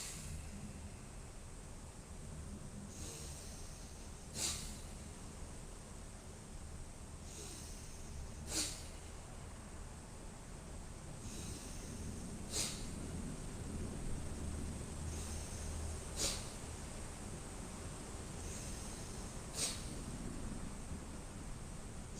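Forceful Bhastrika breathing in a yoga class: a series of sharp, audible nasal exhales repeat roughly every few seconds over a soft steady hiss, fairly quiet and close, with no talking.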